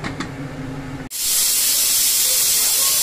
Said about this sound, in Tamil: லிட் போட்டு க்ளோஸ் பண்ணிவிட்டு ஒன் விசில்.